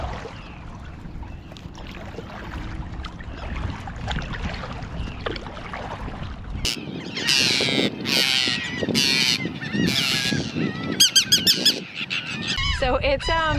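Territorial geese honk loudly and repeatedly close to a Tucktec folding kayak paddled through a bay, the calls arriving in bursts, with water splashing and someone talking over the first half.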